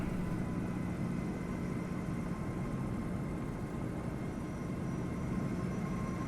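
Steady low engine drone of a Diamond light aircraft in Microsoft Flight Simulator 2024, sitting at a constant idle-like hum with no voices over it.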